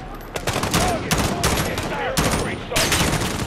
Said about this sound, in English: I'm shooting left, I'm shooting right, I'm shooting behind me